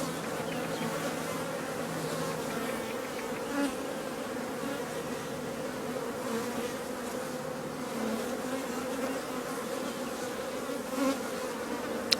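Steady, close hum of many honeybees on brood comb as cleaner workers crawl into the cells, a continuous droning buzz that stays even throughout with no voices.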